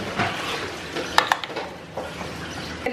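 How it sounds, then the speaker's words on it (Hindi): Potatoes added to a pan and mixed in, with a spoon scraping and clinking against the pan, a couple of sharper knocks in the middle, and quiet stirring and faint sizzling around them. "इसको मिक्स करके इसमें ये सारे पोटैटो डाल दूंगी। एंड अब इसको भी मिक्स कर दूंगी"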